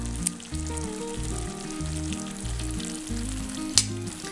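Kadai chicken curry with julienned ginger and torn coriander being stirred in a pan: a constant soft sizzle broken by repeated rhythmic scraping strokes of a spoon, close and moderately quiet, with one sharp clink near the end.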